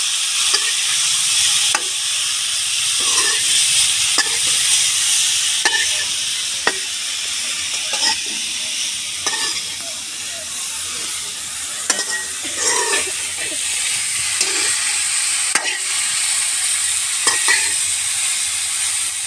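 Cauliflower frying with chilli powder and turmeric, stirred in a pan: a constant bright sizzle punctuated by regular spoon scrapes and clinks, close and loud, with no talking.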